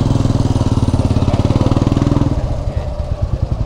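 A small scooter engine runs while being ridden: a loud, close, rapid pulsing putter that stays steady, then softens and roughens slightly toward the end.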